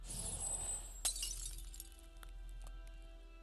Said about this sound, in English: Shatter.